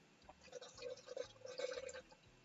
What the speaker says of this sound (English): pouring my tea in my cup here